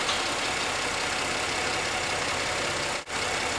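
A car engine idling steadily, a constant close hum that holds even for the whole stretch, dipping briefly near the end, with no talking.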